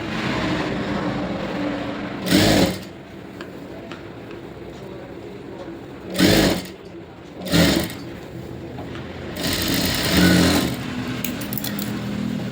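A sewing machine double-stitches a blouse sleeve on a lined blouse in short bursts of steady mechanical whirring, with quieter gaps between runs.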